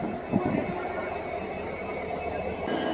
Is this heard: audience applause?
no